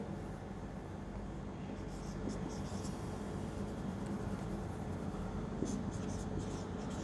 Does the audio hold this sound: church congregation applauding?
no